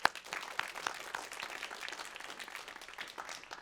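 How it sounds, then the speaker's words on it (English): Audience applause at a women's awards ceremony honouring finalists, quiet and somewhat distant, with a few sharper individual claps standing out from the continuous patter. "let's give our finalists, rising stars, a huge round of applause"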